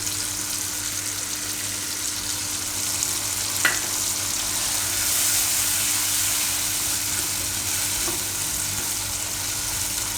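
Tomatoes and coriander cook in a pan for tomato poha, making a steady, close sizzle and hiss that runs throughout with only a couple of faint clinks and no voices.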